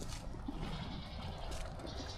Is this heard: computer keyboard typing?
no